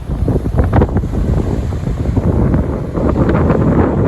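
Ocean surf washes against a seawall by a beach in Aberdeen, a continuous loud roar of waves mixed with heavy wind buffeting the microphone, with no one speaking.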